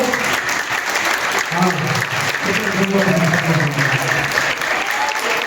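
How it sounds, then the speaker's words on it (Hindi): A church congregation at a Hoshiarpur, Punjab morning service keeps clapping in a dense, even wash of applause, with voices faintly audible underneath. "ताली अच्छी बजा लो।"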